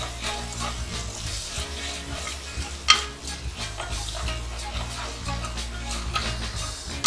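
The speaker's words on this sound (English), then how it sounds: "Now I'll add in the chopped coriander and mint leaves. Saute it for a minute or so." Chopped coriander and mint leaves sauteing for mushroom biryani, giving a steady sizzle with scraping stirs and one sharp clink near the middle, fairly close and continuous without talk.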